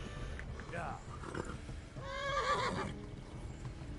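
A horse in the medieval video game Kingdom Come: Deliverance gives a short, shrill whinny near the middle, heard under a player's spoken voice and game background noise.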